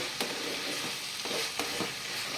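Chicken pasta gets stirred in a pan after a splash of water, with a steady sizzle and several scraping strokes of a spoon at close range and no talking.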